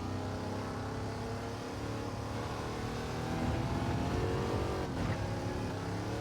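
Steady engine drone of a car driving in a racing video game, a continuous loud hum with layered tones that rises slightly partway through, no talk.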